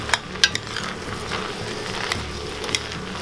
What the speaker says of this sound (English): I want to stir them in with all that nice bacon flavor before I add the broth into it.